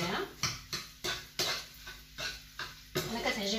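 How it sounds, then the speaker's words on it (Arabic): Macaroni with egg, salt and pepper is stirred in a pot, with about eight rhythmic scraping strokes of a utensil against the pot over a faint sizzle, close and fairly loud. "صافي نبقى نحرك"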